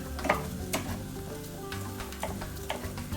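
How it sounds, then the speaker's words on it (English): Jambalaya ingredients sizzle in hot oil in a pot while being stirred, a steady close frying crackle with occasional scraping and clinking of the spoon, no talking. "And we're going to stir this all around. Let the oils coat it good."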